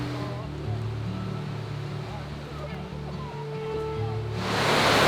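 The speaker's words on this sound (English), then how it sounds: "Yeah, this is like a legit waterfall." A waterfall beside a forest trail near a campsite in Georgia, a steady rushing wash of water that swells louder near the end, with a low motor-like hum underneath.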